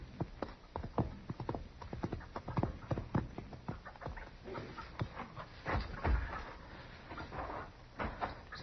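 Horse hooves clip-clop in a quick, uneven rhythm, fairly faint and distant, with scattered knocks and rustles around them.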